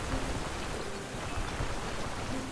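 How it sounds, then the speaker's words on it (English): Heavy rain from a downpour in the Stoneshard video game pours in a dense, unbroken hiss, steady and close throughout with no voices. "What a downpour."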